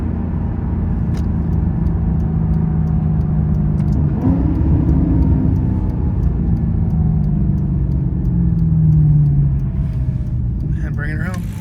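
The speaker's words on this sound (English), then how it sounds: "One more downshift as we're pulling our way in." A 2009 Maserati GranTurismo 4.7 V8 rumbles loudly from inside the car, engine note dropping and rising through a downshift while pulling in, with a steady heavy drone throughout.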